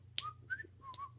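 A person whistles a few short, clear tones in quick succession, with brief gaps between them, close and fairly quiet over a low steady hum.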